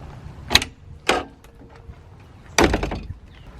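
The cab door of a Bobcat E35 mini excavator is opened inside a garage: a few sharp mechanical clunks and latch clicks, close and fairly loud, separated by brief quiet, with a longer rattling thud near the end.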